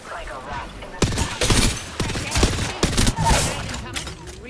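Bursts of automatic gunfire from the shooter game Apex Legends, loud and close, arriving in several choppy volleys with brief gaps between them.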